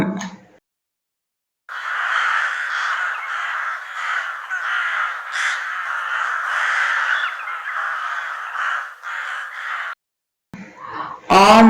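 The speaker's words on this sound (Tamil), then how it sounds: "காகம்," A crow caws in a continuous, harsh, raspy stream lasting about eight seconds, close and fairly loud. Brief silences frame it, with a short unrelated sound at the edges.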